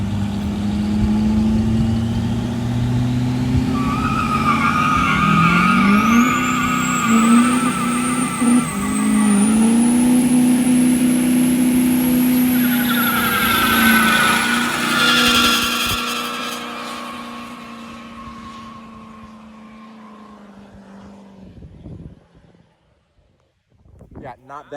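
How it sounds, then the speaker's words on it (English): A 1,200 horsepower truck does a burnout, its engine revving loud and rising in pitch as the tires spin and howl, then cutting off abruptly and fading to near silence, with voices speaking near the start. "We're gonna do a burnout of it really quick."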